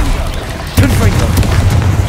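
A Confringo spell explosion in Hogwarts Legacy hits as a single booming burst partway through, over steady, loud combat noise and voices.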